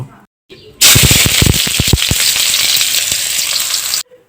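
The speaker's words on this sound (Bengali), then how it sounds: "এখন আমি পেঁয়াজ কুচি দিয়ে দিব।" Chopped onion hits a pan of hot soybean oil after a brief quiet moment, bursting into a loud, close, crackling sizzle with sharp pops that settles into a steady hiss until it cuts off.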